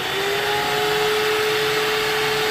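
Electric mixer whirring steadily while beating eggs as oil is poured in a thin stream for an almond-flour cake; a loud, continuous motor hum with a sustained tone, close up and without pauses.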